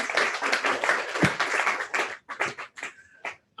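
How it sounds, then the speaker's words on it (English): A small audience breaks into brief applause that tapers off after a couple of seconds, followed by scattered voices talking. "Let's give her a clap."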